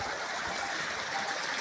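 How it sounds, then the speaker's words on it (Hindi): Steady rushing water flows continuously, a dense, even wash of sound with no voices. "ये देखो कितना पानी निकल गया, बहुत ज़्यादा पानी आ रहा है"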